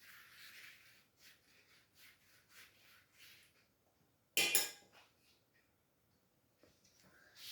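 Metal manti steamer pots set down on a gas stove, giving one loud, sharp clatter of metal on metal that stands out over quiet kitchen rubbing and clinking.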